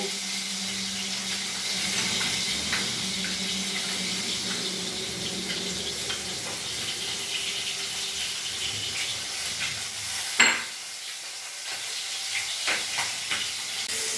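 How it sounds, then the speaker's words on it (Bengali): Katla fish pieces frying in oil until reddish-brown make a continuous soft sizzle close by, with a sharp clatter of a utensil partway through and no speech. "মাছগুলো আমার লাল লাল করে ভাজা হয়ে গেছে,"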